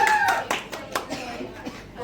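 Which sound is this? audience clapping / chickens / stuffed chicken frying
audience clapping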